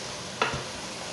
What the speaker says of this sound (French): On racle bien le fond de la casserole.